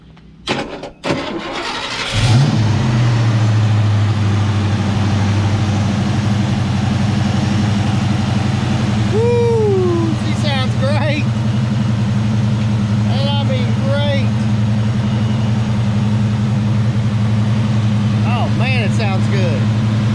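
A Ford Mustang GT V8 cranks and catches, then settles into a steady, loud idle with a deep low rumble running continuously; a few brief whistling or squealing tones rise and fall over the idle.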